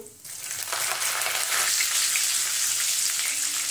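Curry leaves and asafoetida hit hot oil in a tempering for sprouted moong usal, bursting into a loud, steady sizzle that begins abruptly and continues unbroken.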